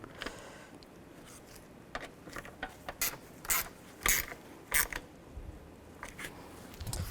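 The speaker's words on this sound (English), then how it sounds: "You can also use a 7mm socket to tighten these down." A ratchet with a 7mm socket tightening bracket screws during a radiator replacement on a 2011-15 Kia Sorento, giving bursts of quick clicking that grow louder toward the middle, close up with no speech.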